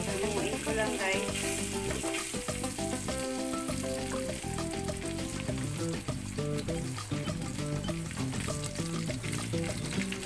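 Pork steak sizzling and frying in a pan while it is stirred, a steady loud crackle with soft scraping stirs throughout and no talking.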